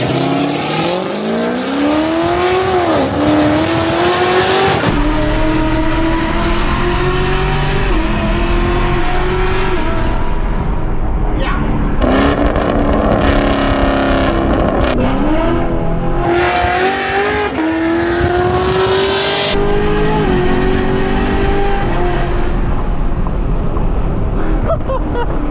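A loud 600-horsepower Camaro SS on the streets of Miami revs its exhaust hard again and again, each pitch rising in sweeping climbs over about twenty-five seconds, with brief gaps between the long, roaring pulls.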